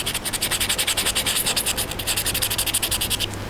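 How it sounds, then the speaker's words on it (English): Sandpaper roughing up a plastic cosplay armour piece before bonding, brisk rhythmic back-and-forth scratching strokes, close and even, about a dozen passes before stopping, with no talking. "I'm just going to make sure I rough this up with a bit of sandpaper"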